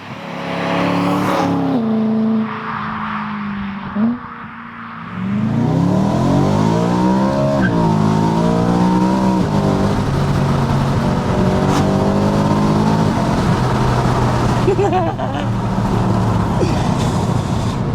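A BMW E92 M3 engine revs loudly and pulls hard through rising gears, with repeated climbing and falling pitch sweeps as it accelerates close by, no talking over it.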